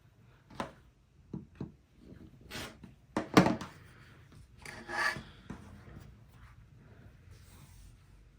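Quilting fabric being cut and trimmed, likely with a rotary cutter along a ruler, giving soft scattered swishes and rubs with one sharper scrape, close and quiet.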